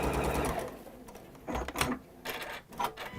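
A sewing machine stitches a seam in short bursts of running, pausing between runs, close and moderately loud with no talk over it.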